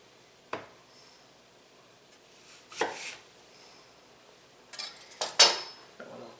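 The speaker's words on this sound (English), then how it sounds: "I'm going to take those ones I quartered, get them cut in half." A knife halving previously quartered pieces while making chicken curry: a few sharp, separate cuts against a board, spaced unevenly and heard up close, with no talking.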